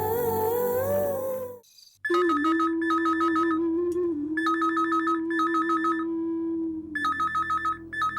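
A telephone ringtone late at night plays as bright, repeating electronic chirping bursts in a regular on-off pattern, following a brief stretch of music that cuts out.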